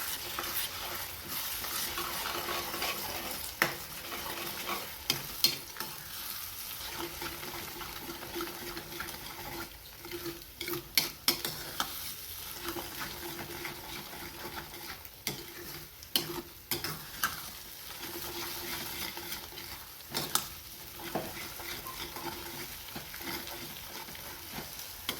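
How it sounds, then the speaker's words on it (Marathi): Beaten eggs stirred and fried in a pan over a full gas flame, a steady sizzle with repeated scraping and clacking of the spoon against the pan, continuous and fairly close, with no voices. "हा फुल गॅस करायचा आणि ही अंडी असं मिक्स करून घ्यायची."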